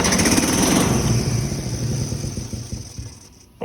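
A repaired Club Car golf cart starter solenoid test brings a steady mechanical whir and rattle, like a starter motor spinning, loud at first and slowly fading over a few seconds, with a sharp clunk near the end and no talking.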